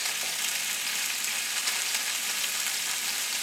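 Red potatoes frying in a pan give a steady, dense sizzle that stays even and fairly close throughout, with no voices over it.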